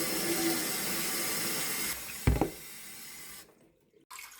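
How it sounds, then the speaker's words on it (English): Soaking water drains out of a pot of pinto beans into a sink in a steady close gush, then a sharp clatter and a short splash, before the flow stops and falls nearly silent. "drain the soaking water completely and throw it out"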